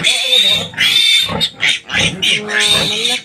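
Loud, close squealing and grunting from newborn piglets and a sow just after farrowing on a small country farm, with overlapping piercing squeals in continuous bursts and only brief gaps.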